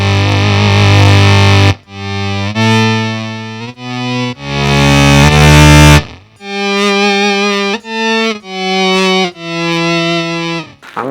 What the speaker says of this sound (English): Synth string sounding awesome